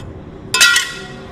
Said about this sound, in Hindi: शीशा कैसे टूट गया?